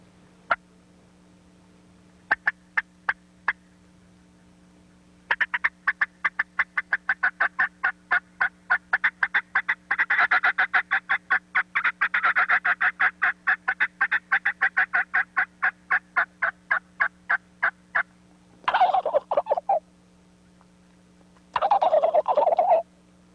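A turkey call worked by hand to mimic a young gobbler, rapid rattling gobble bursts repeating in long rhythmic runs, then two harsher, raspier calls near the end, loud and close with no talking.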